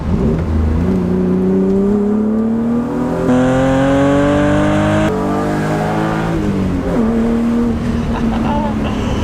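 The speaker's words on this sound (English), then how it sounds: "I want you guys to hear the exhaust" A BMW E36 M3 under way, its exhaust note climbing in pitch through hard acceleration. Clear shifts break the rise twice before the engine pulls up again, loud and close.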